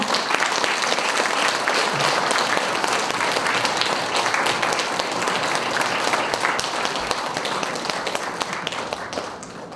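A large indoor audience at a newspaper anniversary ceremony gives sustained applause to welcome a lecturer to the stage, with dense, even clapping throughout and no break.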